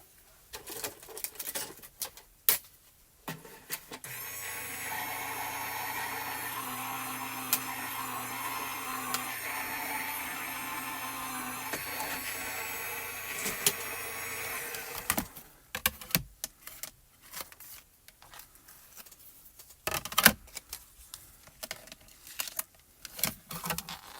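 A die-cutting machine feeds paper through for origami-style papercraft shapes, a steady mechanical hum lasting about eleven seconds, with handling clicks and taps before and after.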